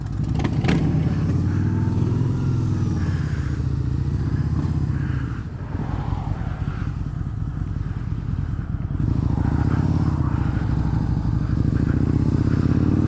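Harley-Davidson V-Rod motorcycle engine droning steadily while riding, loud and close throughout with a brief dip in power midway, no talk over it.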